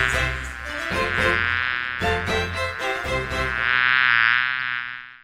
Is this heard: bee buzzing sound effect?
yes